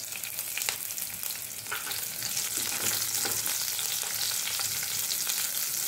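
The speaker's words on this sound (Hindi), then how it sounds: "जो जीरा और राय लिया ऐड कर दिया। 1 मिनट अच्छी तरह से फ्राई कर लेती हूँ।" Cumin, mustard seeds, curry leaves and green chili sizzle and crackle in hot oil, with a steady bright hiss broken by sharp pops and spatters, growing slightly louder partway through.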